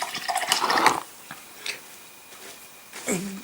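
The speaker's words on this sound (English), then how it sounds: "wash my brush" A paintbrush is swished and rinsed in a water pot at a miniature-painting desk, giving a brief burst of splashing and dripping up front, followed by softer scattered drips and a small clink near the end.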